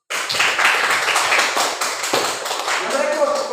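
A classroom of students claps in applause, a dense, steady patter of many hands lasting a few seconds at close range, with voices mixed in.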